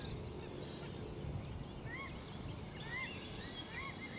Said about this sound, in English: it'd be good with the bird noises